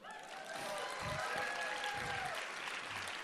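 Graduating high school students applaud themselves at a graduation ceremony, a fairly faint burst of crowd clapping that swells quickly and holds steady, with a few voices underneath.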